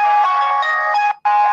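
A phone ringtone going off loud and close, a sustained bright melodic tone that cuts out briefly near the end and then resumes, with no talking over it.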